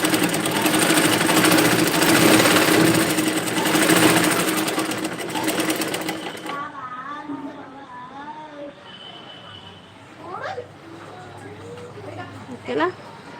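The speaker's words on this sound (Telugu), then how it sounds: "చూసుకుంటూ కుట్టుతున్నాను" Sewing machine stitching a stone-studded dress, running loud and steady for several seconds, then stopping, followed by quieter handling noises and someone talking.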